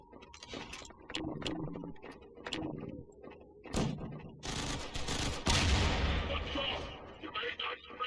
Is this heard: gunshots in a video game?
yes